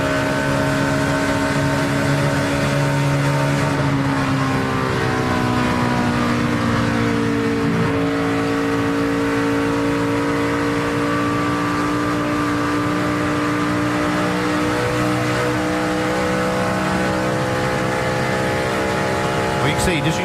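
Kyle Busch's race car at full throttle through turns 1 and 2 during the 2011 Royal Purple 300, a loud, sustained engine drone whose pitch sweeps down and climbs again through the corner, steady and close throughout.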